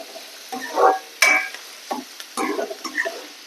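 Chopped onions browning in a pan for an aloo shimla mirch (potato and capsicum) curry, with intermittent stirring scrapes over a soft background sizzle, several short bursts close by.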